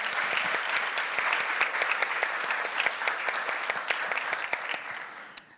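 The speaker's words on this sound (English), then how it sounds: "I was hoping we could all give a round of applause to Brian Johnson" An audience at an event on surgical robotics gives a round of applause, steady crisp clapping from many hands at moderate distance, thinning out and fading near the end.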